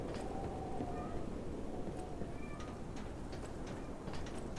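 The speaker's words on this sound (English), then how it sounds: "we will have to listen to the cat." A cat in Lies of P meows a few times, faint and short, over a dense steady rumbling background noise.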